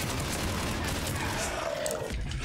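Gunfire from the Mass Effect 3 video game, a dense burst of rapid shots with a continuous crackling wash, loud and close, with a voice talking faintly over part of it.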